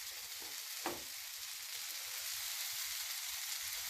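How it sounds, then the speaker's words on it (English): Onions caramelize beside frying mushrooms in a pan, a soft even sizzle with one sharp utensil tap near the start. "So we got the caramel onions getting caramelized on one side."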